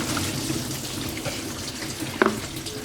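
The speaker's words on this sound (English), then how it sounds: "Coolant everywhere." Engine coolant from a 1997 BMW 328i E36 spilling and dripping during repair, a wet splashing trickle with a sharp splatter near the end over low background noise, no speech.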